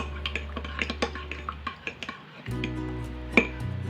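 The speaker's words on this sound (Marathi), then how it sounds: "ह्या दुधामध्ये ही मिल्क पावडर जी आहे ती मिक्स करून घ्यावी" A spoon clinks and taps against a bowl while mixing milk powder into milk for homemade mango ice cream, with irregular close knocks and a low steady hum underneath.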